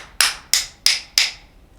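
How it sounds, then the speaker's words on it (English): Four evenly spaced, ringing metallic hammer strikes as the back bearing plate is driven into a Wessex Z valve, each a bright close tap with a short decaying ring. "You will hammer the back bearing plate in."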